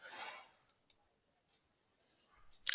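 A few quiet computer mouse clicks, two sharp taps close together, set among soft faint noises and a brief louder rustle at the end.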